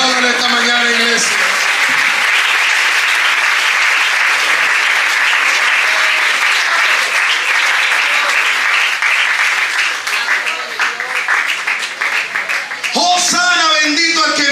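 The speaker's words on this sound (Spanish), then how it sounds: "Aplaudan esta mañana, iglesia." Church congregation applauding loudly at a Sunday morning Hosanna service, a dense, sustained roar of clapping with scattered cheers that fades briefly near the end before swelling again as singing voices join.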